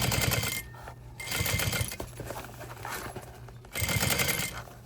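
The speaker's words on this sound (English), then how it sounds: "Definitely easier to sew it from this side of the bag than the other one." A sewing machine stitches a fabric crossbody bag in loud bursts of rapid needle chatter, stopping and restarting three times with quieter pauses between runs.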